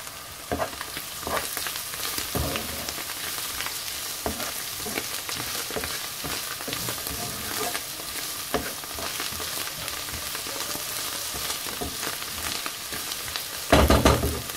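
A Moroccan savory pastry filling, seasoned with Knorr and grated thyme, fried and stirred in a pan. A steady sizzle runs throughout with repeated scraping stirs and a louder clatter near the end. No one speaks.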